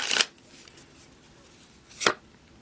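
Tarot cards being shuffled in two short, crisp riffle bursts, one at the start and another near the end, with quiet room tone between and no talking.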